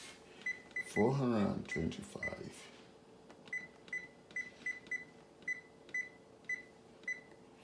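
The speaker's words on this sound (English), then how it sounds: "first I'm going to preheat the oven to 425" Oven control panel beeping while being set to preheat to 425 degrees in a home kitchen, a string of about ten short, evenly spaced electronic beeps after a brief burst of speech, moderately close.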